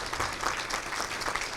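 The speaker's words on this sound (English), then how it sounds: "let's give him a round of applause" Audience at a housing talk in Grand Haven, Michigan, claps for the morning's facilitator, a brief, steady patter of many hands at moderate loudness with no talking.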